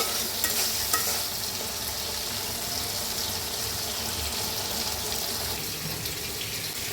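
Shrimp frying in a pan with chilli powder and spices, a steady close sizzle with faint scraping and stirring running throughout, no voices.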